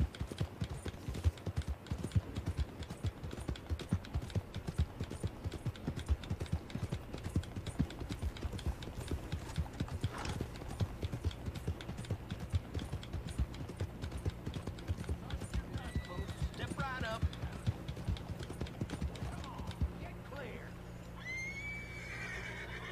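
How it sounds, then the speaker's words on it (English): Horse hooves clip-clop steadily with occasional whinnies and neighs in the Red Dead Online video game, set around a stable; the steady hoof rhythm runs throughout, loud and close, fading to a softer ambient bed near the end. "Horses."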